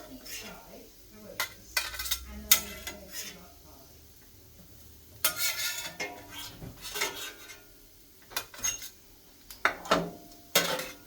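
Chicken and cheese schnitzels cooking on a flat top griddle, a faint sizzle under irregular clanks and scrapes of a metal spatula, with someone talking between the clatter.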